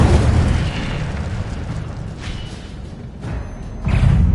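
Incendio fire spell cast in Hogwarts Legacy, a loud, dense roaring blast of flame that stays heavy and low throughout, dips briefly in the middle, then surges again near the end.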